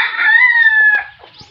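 A single loud rooster crow, close and clear, one long drawn-out call that trails off.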